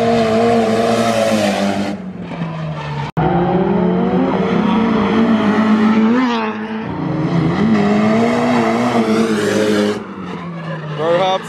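Drift cars at the Ebisu Spring Matsuri race nearby with loud, sustained engine roar, rising revs and screeching tire squeal, the sound staying dense and continuous throughout, with people talking beneath it.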